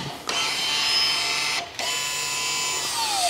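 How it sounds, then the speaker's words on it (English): An Audi TT Mk3's electronic parking brake motor winds out, a steady mechanical whirr that runs close and loud for about three seconds with two brief pauses. "release the handbrake mechanism using diagnostic tool with the procedure, and you should hear it winding it out"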